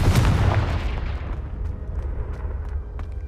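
A Confringo spell blast in Hogwarts Legacy erupts as a loud, booming explosion right at the start, its heavy low rumble rolling on and slowly decaying over several seconds with scattered crackling debris.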